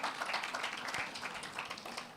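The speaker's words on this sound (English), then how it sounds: "So let's give them a round of applause" An audience at the STEM Festival 2025 launch event claps for the Achimota performers, a continuous, even patter of many hands heard from a moderate distance, with no talking over it.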